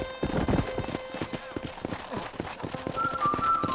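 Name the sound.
horse hooves galloping in video game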